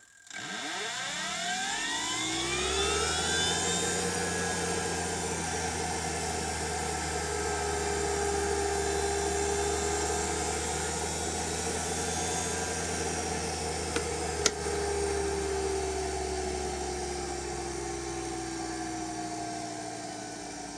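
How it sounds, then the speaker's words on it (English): A DIY diamond lapping machine's platter spins on a motor with a 14 mm shaft, giving a steady high-pitched whine with layered tones that rise as it spins up, then holds constant and close throughout, with no talking. "You see the Platter runs dead true."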